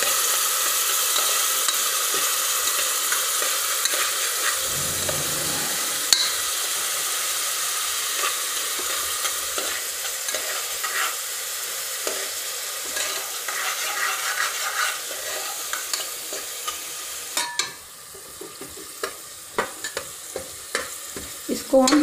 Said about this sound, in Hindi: प्याज को हम गोल्डन होने तक भूंज लेंगे